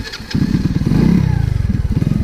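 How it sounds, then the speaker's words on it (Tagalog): A Euro Sports E 110 motorcycle, a 110cc four-speed bike with drum brakes, revs loudly and steadily up close on a test ride, its engine note holding a dense pulsing rumble throughout with no talking. "test ride natin tong Euro 110cc"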